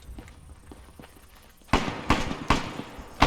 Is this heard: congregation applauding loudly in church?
no